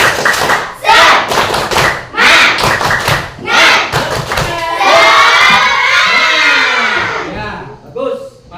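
Schoolchildren in a classroom perform a rhythmic spirit clapping chant, with loud bursts of patterned hand claps and thumps alternating with the class shouting and chanting together, then a longer stretch of group voices.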